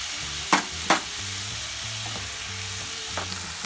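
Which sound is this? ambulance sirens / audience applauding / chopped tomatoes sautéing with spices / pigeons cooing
chopped tomatoes sautéing with spices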